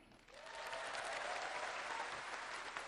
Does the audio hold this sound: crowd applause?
yes